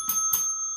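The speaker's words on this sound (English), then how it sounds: "Where's the bell?" Bright bicycle-bell-style ring struck twice in quick succession, each strike sharp and clear with a sustained metallic tone lingering between and after, isolated with no voices.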